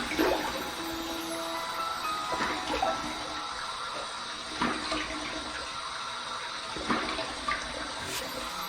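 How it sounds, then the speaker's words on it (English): Hot tap water runs steadily into a sink while a face is wetted for shaving, a continuous splashing hiss with occasional louder splashes of water hitting skin and basin. "let's wet the face with some hot water, but not overly hot"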